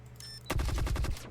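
Gunfire from a video game plays as a rapid burst of repeated shots that lasts under a second, loud and close, after a brief electronic tone.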